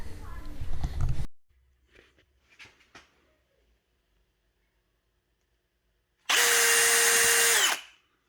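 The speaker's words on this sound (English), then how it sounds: "drilling through my hood with a pilot hole" A power drill bores a pilot hole through the hood of a Nissan Skyline R32 GTR during a Z-TUNE hood install, a loud steady whine lasting about two seconds near the end, after brief talk and some quieter handling noises.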